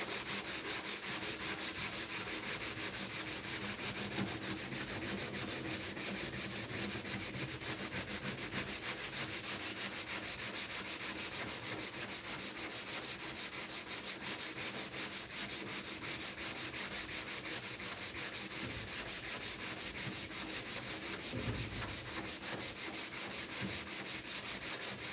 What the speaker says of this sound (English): I am going to just whip on a new sheet of sandpaper